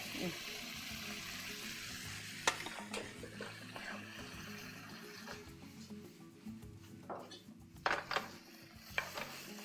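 Meat and beech mushrooms stir-fry in a pan as a utensil stirs, with scattered scrapes and clinks against the pan.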